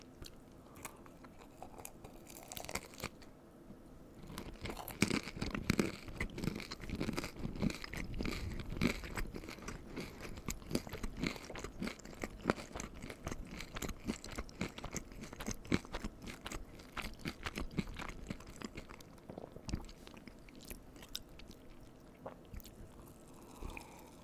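Crunchy baked cream cheese wontons chewed close to the mic, a dense run of crisp crunches and bites that swells after a quiet start and keeps going steadily without talk.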